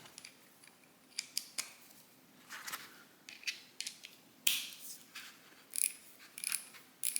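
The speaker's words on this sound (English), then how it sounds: "Very quiet ratchet." A small, quiet socket ratchet clicking close by in short bursts of soft, rapid pawl ticks separated by pauses, faint and with no talking.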